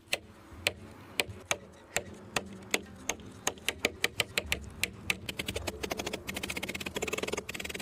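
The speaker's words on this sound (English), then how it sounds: "The idea is to cut this piece of bamboo using as few strikes as possible." A small pocket knife chops into a piece of bamboo with sharp, clicking strikes, evenly spaced at first, then quickening into a rapid, near-continuous run of taps.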